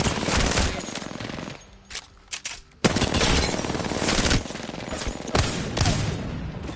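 Loud, rapid automatic gunfire in Apex Legends, coming as long sustained bursts broken by a short pause with a few single cracks before the firing resumes.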